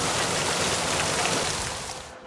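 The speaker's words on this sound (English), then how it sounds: "That was just a few pieces of hail." Small hail patters on a metal roof as a steady broadband hiss at fairly low level, fading toward the end, with no talk.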